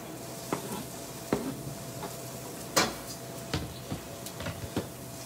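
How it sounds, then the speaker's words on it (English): Chopped onions and peppers cook in a hot oiled pan, a soft steady sizzle broken by scattered sharp clicks and taps of utensils against the pan, close and moderate in level, without talking. "we're going to add our onions and peppers to it."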